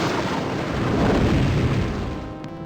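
A massive explosion in the video game Death Gate, a dense, sustained roaring blast that swells and fades over a couple of seconds with no talk.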